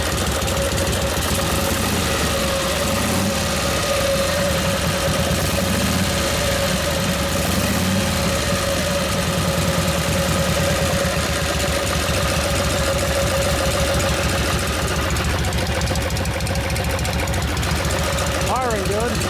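A 1952 Harley-Davidson panhead with a Linkert carburetor runs steadily nearby, a continuous loud, even idle with a throbbing beat that holds for the whole stretch, while voices talk over it.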